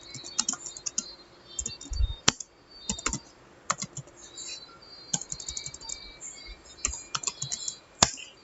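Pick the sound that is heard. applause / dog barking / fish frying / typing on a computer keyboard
typing on a computer keyboard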